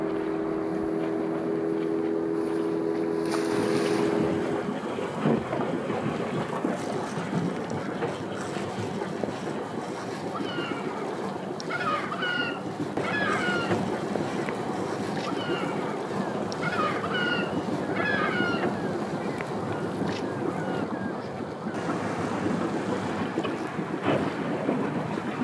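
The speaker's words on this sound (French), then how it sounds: "Le Zodiac cherche le bon passage pour notre bateau." Outboard motor hum of an inflatable Zodiac boat and water splashing against its hull among icy waters, with wind buffeting the microphone and faint distant bird calls.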